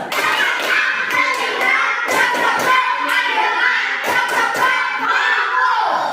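A classroom of fifth graders performs a rhythmic patterned clapping routine, quick bursts of unison claps in short groups with brief pauses between, near and loud, with some children's voices mixed in.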